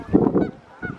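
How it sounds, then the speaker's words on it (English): Geese near the water give a short burst of loud, close honks, then a brief lull and another call starting. "Look at all these geese."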